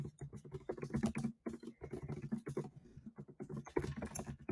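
Soft, irregular clicking of a computer keyboard as a blog post is typed, with quick bursts of keystrokes and short pauses, faint and close.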